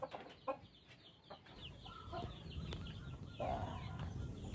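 Chickens cluck in a coop in the late afternoon, with a few scattered sharp clucks at first that give way to steady, close-up farmyard clucking and rustling.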